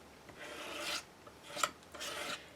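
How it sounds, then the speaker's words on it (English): A palette knife spreads icing-like paste across a layered stencil on a mixed media card, making three soft scraping strokes, close and fairly quiet, with no talk. "then we're just going to spread it through the stencil"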